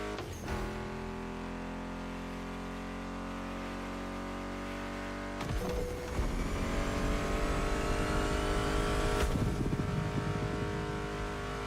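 Car engines roar through a race in The Crew Motorfest video game, a steady loud drone that surges and revs harder partway through, layered with background music and no talk.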